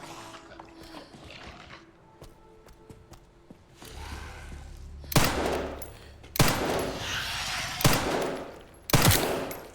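Gunfire in the Resident Evil Requiem video game: four loud, sharp shots spaced about a second apart, each ringing out briefly, over a low rumbling background ambience.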